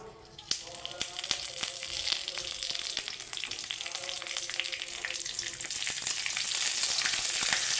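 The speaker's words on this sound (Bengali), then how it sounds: "ভেজে নেবো তেল দিয়ে দিচ্ছি" Curry leaves frying in hot oil for a Bengali puri torkari, a loud close crackling sizzle with sharp pops that builds steadily and grows denser toward the end.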